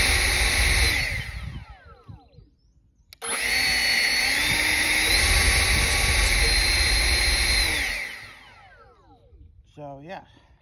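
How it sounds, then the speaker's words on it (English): Ego 56-volt cordless leaf blower whirring at high speed, starting briefly, cutting out, then running loudly and steadily for several seconds before spinning down, close to the listener. "And the blower is right here."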